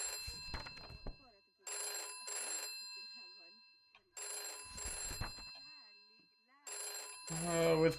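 A telephone bell rings loudly in repeated bursts of about half a second, with pauses between them. Voices talk over the gaps.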